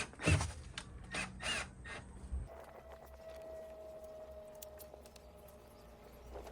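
Screws are being driven into a glued repair piece on a 1980s 30 ft catamaran under rot repair, a few sharp mechanical bursts at the start and then a long thin whine over quiet background.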